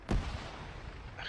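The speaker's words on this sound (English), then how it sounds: "Fucking sniper." A sniper rifle shot in the video game Arma 3, a single sharp crack that fires at the start and rolls off into a long, dull echoing tail.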